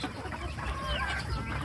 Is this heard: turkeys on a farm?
yes